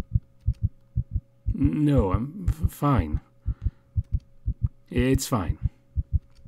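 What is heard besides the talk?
pounding heartbeat sound effect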